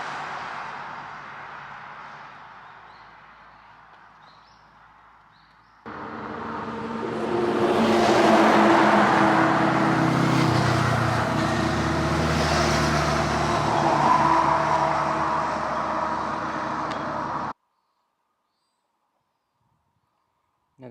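Cars pass by on a road one after another in a continuous roar of traffic, rising and holding for several seconds before the sound cuts off abruptly.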